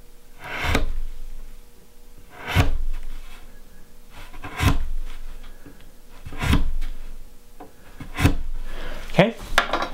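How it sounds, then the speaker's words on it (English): A razor blade scores along a marked line on wood for a Dutch door in a tiny house build, giving five evenly spaced rasping strokes, each a short loud scrape, with a faint thin sound at the end. "razor blade and score along the mark we just made on both sides and make that kind of deep"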